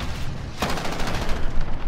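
An MP7 submachine gun fires in Call of Duty Modern Warfare. A quiet stretch gives way to a rapid, loud, close burst of evenly spaced shots that keeps going to the end.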